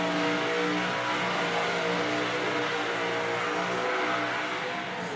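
A big supercharged burnout car revs hard on the pad at a burnout competition, a loud continuous engine roar holding high revs throughout with no break.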